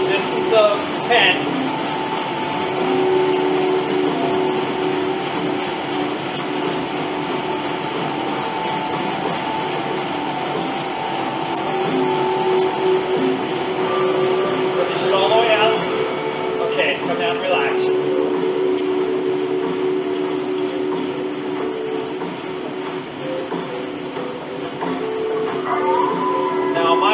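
A Bowflex Max Trainer set to resistance 10 runs through a sprint interval, giving a steady whirring drone with a faint rhythmic hum while a person speaks now and then.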